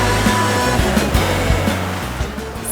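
Ocean surf rolls and breaks continuously in the surf zone at Songjeong beach in Busan, a loud, steady wash of waves with low rumbling swells and no voices.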